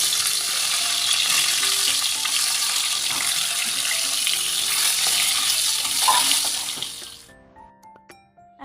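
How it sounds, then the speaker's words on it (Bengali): Eggs rubbed with salt and turmeric frying in a pan, producing a loud continuous sizzle and crackle with faint stirring for about seven seconds, then cutting off abruptly into near silence with a few small clinks. "এদিকে ডিমগুলো আগে ভেজে নেবো আর কি, নুন হলুদ মাখিয়ে নিয়েছি।"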